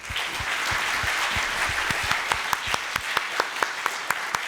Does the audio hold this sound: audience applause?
yes